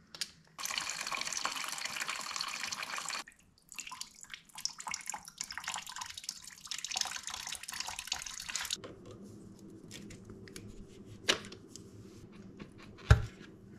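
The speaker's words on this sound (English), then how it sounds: "let's drop the coolant out so we can pop off one of these lines" Coolant splashing and draining from a KTM RC390 motorcycle's cooling system: a loud, steady rush of liquid for several seconds, then a quieter trickle with a few sharp knocks near the end, with no talking.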